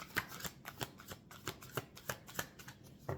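Tarot cards are shuffled by hand in a quick, crisp riffle, with about a dozen sharp flutters spaced fairly evenly over three seconds. The sound is close and clear, with no talking.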